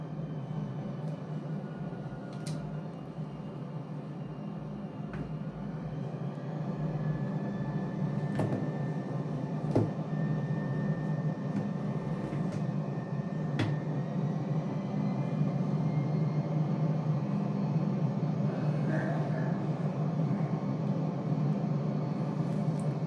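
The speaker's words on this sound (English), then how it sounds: "I'm going to throttle up and take off" Simulated airliner engines in Microsoft Flight Simulator, departing Hong Kong International Airport, spool up from a steady broad roar to a slightly louder sustained rumble and whine, with a few faint clicks over the top.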